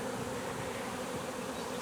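A big swarm of honey bees at a hive hums in a dense, steady buzz, loud and close, filling the whole moment without pause.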